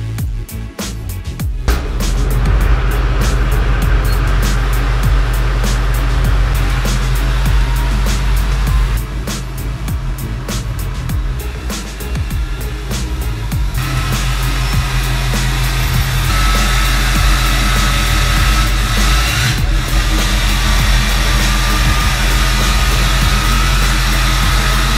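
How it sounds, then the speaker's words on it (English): A loud, steady Duramax pickup truck engine rumble runs throughout, with a low idling drone and a brief dip partway through as the truck slowly backs into a garage. "First step is backing the truck into the garage."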